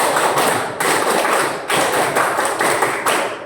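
Children performing a rhythmic group clapping routine called tepuk pinjar, with loud, regular bursts of claps in a repeating pattern, close and energetic with no talk.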